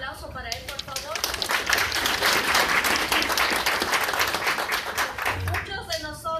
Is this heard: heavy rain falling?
no